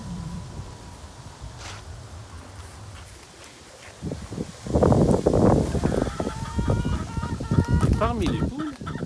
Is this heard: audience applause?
no